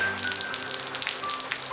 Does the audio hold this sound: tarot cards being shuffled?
no